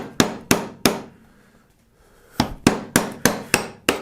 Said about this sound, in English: I just find using an old drill bit works pretty well to knock it out